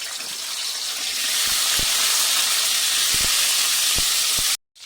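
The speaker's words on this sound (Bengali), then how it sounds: "এবারে ফুলকপিগুলো আমি তেলের ওপর একটু ভেজে নেব।" Cauliflower pieces fry in hot white oil in a wok on a stove, giving a loud, continuous sizzle with scattered pops and crackles before cutting off suddenly.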